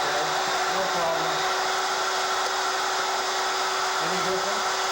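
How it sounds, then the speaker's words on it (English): An electric drill runs steadily throughout, giving a continuous, fairly loud whirring hiss with a faint hum, while a low voice murmurs faintly underneath. "My drill is working. I can hold it. I can drill."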